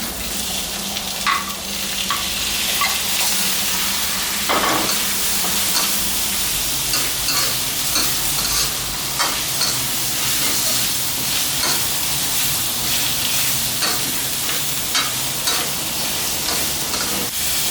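Catfish meat stir-fried in a pan for a spicy Thai phat phet curry, giving a steady loud sizzle and hiss with repeated scrapes and clatters of stirring throughout, with no talking.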